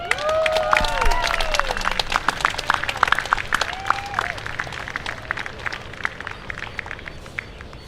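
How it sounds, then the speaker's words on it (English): Applause and cheering from a crowd at Iolani Palace welcoming Kumuhina to the stage, fairly loud and sustained, with whistles and whoops rising over the steady clapping. "Ladies and gentlemen, Iolani Palace, please, big round of applause."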